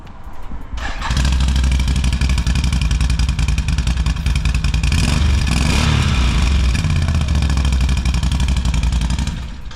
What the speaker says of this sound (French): Pour donner une idée de la sonorité, on va démarrer par le 570.